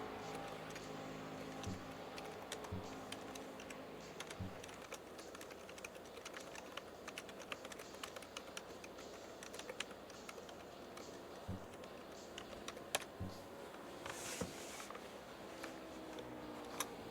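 Fast, light computer keyboard typing clatters continuously during a stock car oval racing game session, soft clicks running under faint background noise.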